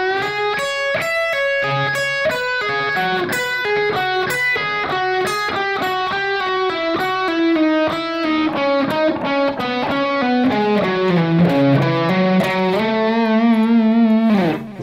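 Distorted electric guitar plays a fast, fluid triplet-based lick from a solo, a dense run of notes with effects, rising and falling steadily and loud for the whole stretch with no talk.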